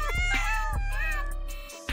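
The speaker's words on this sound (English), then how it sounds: "they find themselves under the influence of cute kittens" Cute kittens meow close up, with a few high, wavering cries in quick succession over a steady low hum.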